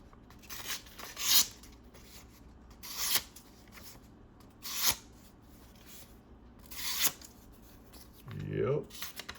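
A Byrd Cara Cara 2 folding knife blade slices through material in several short, rasping strokes, each a brief scraping burst spaced about a second apart, close and fairly quiet.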